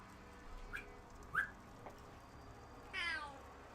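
A pet cat meows a few times indoors, with short faint calls spaced apart and one louder, longer cry near the end, set against quiet room noise.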